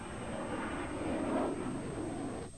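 A MiG-29 high-performance jet flying at low altitude gives a steady, broad engine roar that swells to a peak and then fades as it passes, fairly distant and with no talk.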